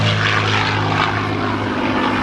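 A P-51 Mustang propeller fighter roars past at an airshow, a loud, steady droning engine with a churning low throb that fills the whole moment without voices.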